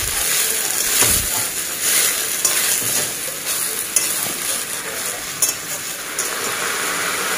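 Ghatkol leaves and stalks being stirred in a hot pan: a steady, loud sizzle with frequent scraping and rustling strokes of the spatula, close up, no talking.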